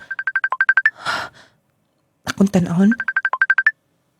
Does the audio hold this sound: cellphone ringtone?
yes